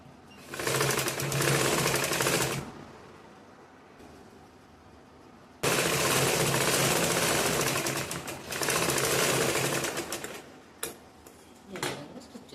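A sewing machine stitches the back part of a lined blouse in two long, loud, close runs of rapid clatter separated by a brief pause, then a few short bursts at the end.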